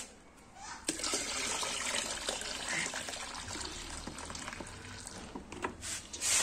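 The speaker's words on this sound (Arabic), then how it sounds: "نكمل دلوقتي ميتنا للاخر" Water pours steadily and fairly softly into a homemade liquid colour-safe oxygen bleach mixture for about five seconds, a continuous splashing gush that tapers near the end.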